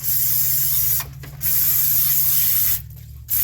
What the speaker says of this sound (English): It's brake clean.